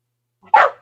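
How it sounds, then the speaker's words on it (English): A dog gives a single short, sharp bark close by while dogs wrestle indoors, standing alone after near silence. "I got distracted by dogs wrestling."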